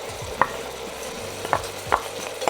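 Mushrooms and bacon cook in a pan with a soft, steady sizzle, broken by a few sharp scraping stirs of a utensil.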